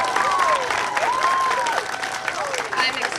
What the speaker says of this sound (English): So a huge round of applause for that.